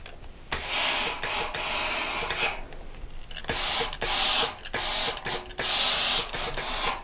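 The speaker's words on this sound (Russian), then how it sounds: "И утюжим рукавчик." A steam iron pressing a sleeve seam on a garment: a loud steady hissing of steam with brief pauses and bumps of the iron, no voices.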